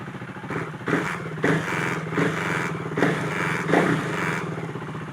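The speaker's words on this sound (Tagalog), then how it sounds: "Then yung throttle, kung papansinin nyo, nagre-response na yan." KTM Duke 390 motorcycle engine idling close by with a series of short throttle blips, each rev rising and falling in a regular rhythm about once a second.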